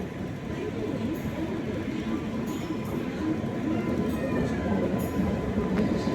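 The Kovai Superfast Express, running from Chennai to Coimbatore via Salem, rumbles steadily from inside a carriage, with a continuous loud roar of wheels on track and a few faint metallic ticks above it.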